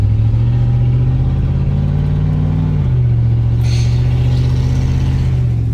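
A bagged 1999 Chevy Silverado lowrider truck cruises with a steady droning engine note that drops in pitch partway through, loud and close, with a brief hiss of air near the end.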